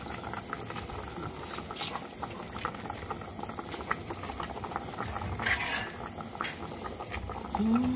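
Nilagang baboy, a pork soup with potatoes and cabbage, boils steadily in a pot, giving a continuous bubbling simmer with occasional louder pops and stirring clatter, close and alone without talk.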